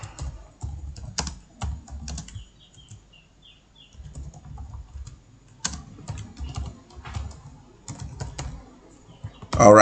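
Typing on a computer keyboard while writing a document in Microsoft Word, a steady run of close, light key clicks in irregular bursts with brief pauses, ending in a louder clatter.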